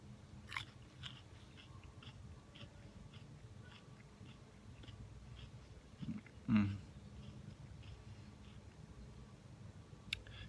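Chewing a raw wild onion, soft close crunches and biting sounds, mostly quiet and sparse, with a louder crunch partway through and no talking.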